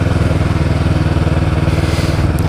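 A motorcycle engine runs close by with a loud, steady, pulsing throb, a fast regular beat throughout with no clear rise in revs.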